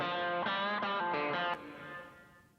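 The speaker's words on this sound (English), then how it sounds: "So you hear the tape slap is in the room reverb." Tape slap echo fed into room reverb on a studio recording, a distorted harmonic tone repeating in quick echoed pulses before cutting off into a decaying reverb tail.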